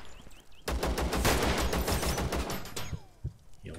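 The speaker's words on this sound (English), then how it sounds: "That's not a shotty, it's a funky AK" An AK rifle firing in the video game Zero Sievert, with a rapid burst of automatic shots that is loud and dense for about two seconds and then trails off into a few scattered shots and faint game noise.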